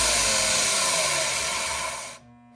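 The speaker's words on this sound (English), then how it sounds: "We're gonna see how long it takes to grind out 1 piece of wood" A bench grinder/sander grinds down a one-inch piece of wood, giving a loud, steady broadband whirring roar that holds for about two seconds and then abruptly cuts off, leaving a faint motor hum.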